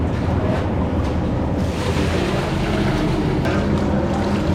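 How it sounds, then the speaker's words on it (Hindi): Freshly cut carrots are washed in water for gajar ka halwa, giving a loud, continuous, close-up sloshing and splashing rush that holds steady throughout, with no speech. "कटिंग करने के बाद गाजर को धोया जा रहा है, तो पानी डाल के इसमें धोएंगे।"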